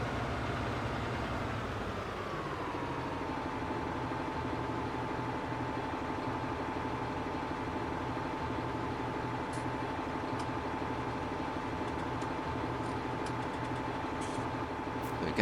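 A tractor engine in Farming Simulator 19 drones steadily at idle, its pitch dropping early on then holding an even hum, faint and continuous with occasional small clicks.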